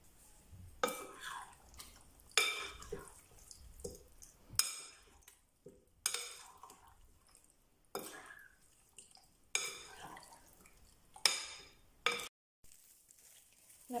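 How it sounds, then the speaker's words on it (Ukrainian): A spoon scrapes and clinks in a bowl as marinade is stirred into raw chicken wings, with repeated short bursts of wet mixing and clatter separated by brief pauses, close and moderately loud. "Виливаємо все в миску до курячих крил і ретельно перемішуємо."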